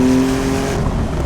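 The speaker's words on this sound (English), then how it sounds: "And the exhaust sounds really good." Porsche 911 Carrera T engine and exhaust accelerating hard, a loud, close, steady harmonic drone with a rising pitch that continues throughout.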